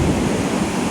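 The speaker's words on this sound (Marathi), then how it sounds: "आणि या लाटा बघा काय होती" Rough monsoon sea waves on the Konkan coast surge and crash in a loud, continuous roar close by, with no voices.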